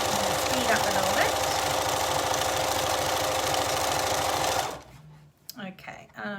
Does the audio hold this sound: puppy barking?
no